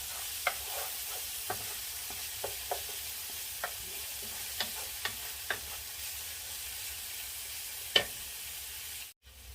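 Onions sautéing in a pan until soft and glassy, with a steady low sizzle under scattered short ticks and clinks of stirring, fairly quiet and close, ending with a brief cut to silence.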